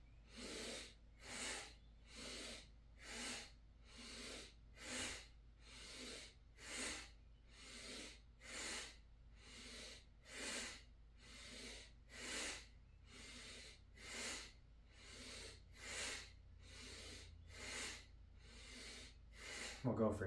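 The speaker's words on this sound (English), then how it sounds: "Finding these sharp exhales." Sharp, forceful exhales through the nose in a paced restorative breathing exercise, a steady rhythmic run of about two dozen evenly spaced puffs, close and clear against a quiet background.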